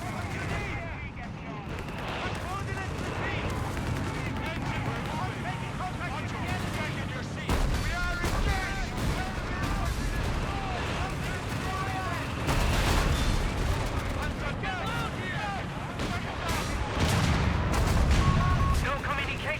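Gunfire and artillery from the World War II strategy game Company of Heroes 3, with a Flakvierling in play: dense, continuous shots and booming blasts that swell in waves, with game voice lines over the battle.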